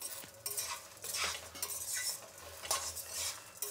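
A utensil scrapes and stirs tamarind and dry coconut in a pan over a faint sizzle. The strokes are soft and quick, with no voices.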